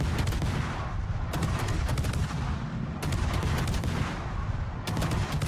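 Naval guns and gunfire in World of Warships pound continuously, with sharp volleys cracking out at intervals over a steady low rumble of battle, loud and close, with no talk.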